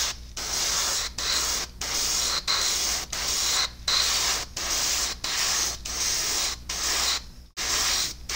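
Spray painting a Warhammer 40k miniature with high-pigment paint: a loud, continuous airbrush hiss that sprays in repeated bursts of about half a second to a second, broken by short pauses, with no talking.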